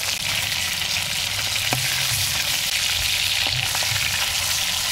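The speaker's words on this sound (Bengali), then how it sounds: "আর কথা বলতে বলতে এই মাছের এক পিঠ ভাজা" A large rupchanda (pomfret-type) fish, about two kilograms, fries steadily in hot oil in a pan, with a continuous loud sizzle and a few soft pops throughout, no voices.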